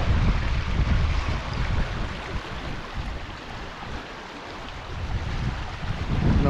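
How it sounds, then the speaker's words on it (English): Cedar Creek flowing water at an outdoor historical pioneer village, a steady broadband rushing with gentle surges, close and continuous, mixed with some wind buffeting and no speech. "Cedar Creek, I love that sound. That is such a calming sound."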